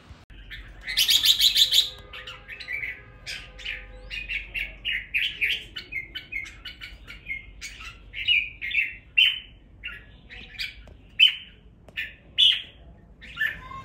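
A red-whiskered bulbul (chào mào) sings close by: bright, varied chirps and whistled phrases repeated in short bursts, one louder rapid flurry near the start, then steady song over a quiet background.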